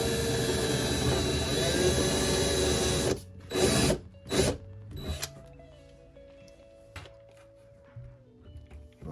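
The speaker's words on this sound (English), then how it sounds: "that way I know where to drill some little pilot holes." A power drill boring small pilot holes into the roof of a lizard enclosure, heard as a few short, loud whirring bursts after a stretch of steady broadband noise, followed by quieter tonal hum.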